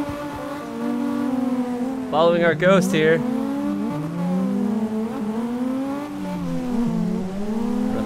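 A BMW E36 engine revs and whines through gear changes in CarX Drift Racing Online, with rising and falling pitch, a brief tire squeal and a second engine nearby, while someone talks over it.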